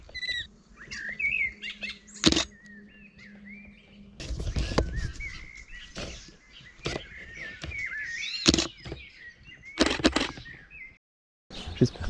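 Garden birds including a blackbird chirp and call repeatedly outdoors, with scattered tweets and whistles near and far, broken by a few sharp cracks and rustles.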